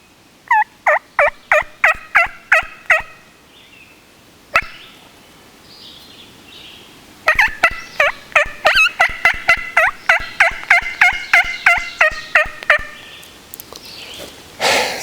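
Hand-operated turkey call imitating a wild turkey hen: sharp rhythmic yelps in quick bursts, mixed with cackles and clucks, loud and close, a short run, a pause, then a longer excited series.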